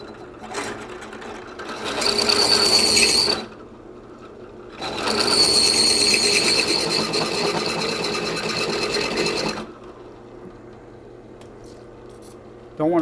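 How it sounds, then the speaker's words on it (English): A drill bit turns at 250 RPM while a Mopar Hurst shifter for an A833 New Process four-speed is being rebuilt, with two close, steady whirring bursts separated by brief pauses. "Drill bits at 250 RPM."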